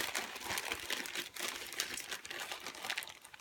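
Crinkly plastic sheets handled in a travel journal, a steady close rustling and crackling that continues throughout, fairly quiet, with no talking.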